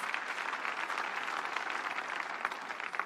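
Church congregation applauding together for Jesus Christ at a healing service, a dense, steady wash of many hands clapping that holds throughout at moderate loudness, with no speech.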